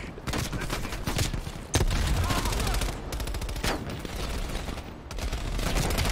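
Heavy gunfire in a Black Ops Cold War campaign firefight, continuous loud volleys with sharp close shots and a low boom partway through.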